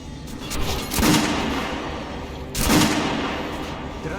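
Two heavy gunshots at a shooting range in Metro Last Light Redux, about one and a half seconds apart, each a sharp close blast with a lingering echoing tail.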